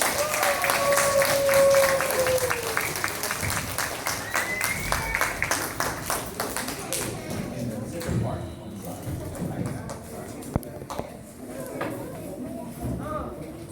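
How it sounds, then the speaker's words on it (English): Crowd applause at an elementary school chess event, loud clapping mixed with cheering voices that gradually thins out, leaving scattered claps, murmuring and a sharp knock near the end. "Give them a round of applause."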